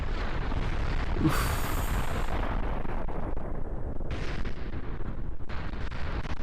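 A rocket explodes in Kerbal Space Program after launch, a sharp burst followed by rumbling debris blasts and a few later bangs over a steady roar, with a brief voiced groan.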